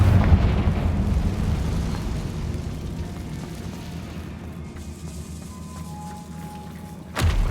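A Confringo spell explosion in the Hogwarts video game: a deep rumbling blast that decays slowly over several seconds, followed at the end by a sudden sharp burst.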